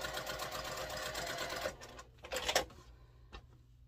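A sewing machine stitches a quarter-inch seam on quilt half square triangles, a steady fast mechanical whir for under two seconds, then slowing and stopping with a few faint clicks, close and alone.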